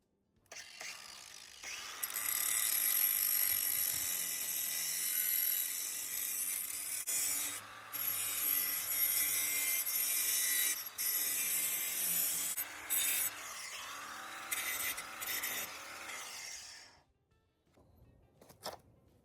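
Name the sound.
grinding something down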